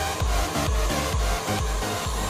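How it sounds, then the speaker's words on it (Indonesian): An electric mixer whips cake batter for an orange fresh cream cake, whirring steadily with rhythmic low thumps as the beaters cycle through the bowl about twice a second. "Ini kita mix sampai semuanya mengembang."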